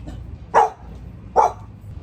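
Two loud, sharp barks from a big puppy dog, spaced about a second apart, close by over a quiet background.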